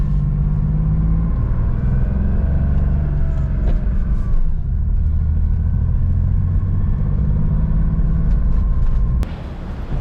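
A Porsche 911 SC driving on the road in cold winter weather, a continuous low engine rumble with steady tyre and road noise, loud and close from inside the car.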